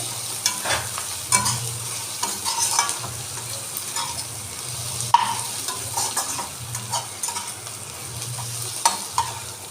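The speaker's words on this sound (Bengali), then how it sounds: "পেঁয়াজটা লাল করে ভাজা হয়ে গেছে" Steady sizzling of onions frying to red-brown in a pan for mutton kosha, with occasional scraping and stirring clatter, close and continuous with no talking.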